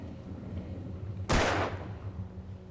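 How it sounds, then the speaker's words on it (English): A single loud gunshot rings out in Alan Wake Remastered, fired at a lock, a sharp broadband blast with a short decaying tail over a low steady game ambience. "Shooting at the lock doesn't help."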